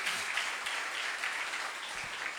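A church congregation applauding during a family worship service, a dense, even patter of many hands clapping continuously at moderate volume, with no one talking over it.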